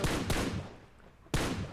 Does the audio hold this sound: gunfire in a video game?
yes